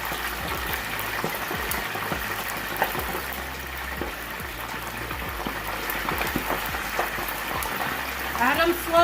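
Chicken wings frying in hot oil give off a dense, steady sizzle with scattered pops that builds slightly toward the end, close and continuous.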